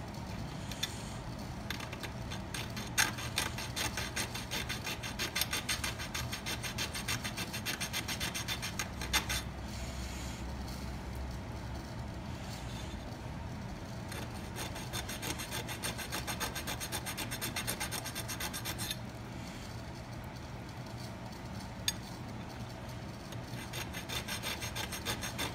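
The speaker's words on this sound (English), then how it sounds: "Now I'm using the bigger one, bigger file instead of the smaller file." A large metal file rasps steadily against a key being cut for an antique roll top desk, a continuous close gritty scraping of back-and-forth strokes that runs throughout without talk.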